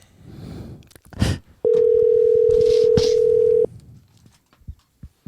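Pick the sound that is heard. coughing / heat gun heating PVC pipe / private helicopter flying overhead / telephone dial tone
telephone dial tone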